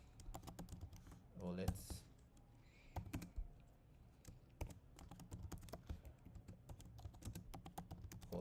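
Close, rapid computer keyboard typing in uneven bursts of clicks, continuing under a man's quiet speech.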